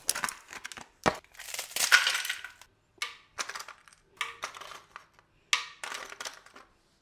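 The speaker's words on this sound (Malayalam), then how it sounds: "ഇനി ഞാൻ ഇച്ചിരി ഐസ് ക്യൂബ് എടുക്കട്ടെ കേട്ടോ" Ice cubes are scooped and dropped while coconut milk lemon juice is being made, several sharp clattering bursts close by with short gaps between them and no talking.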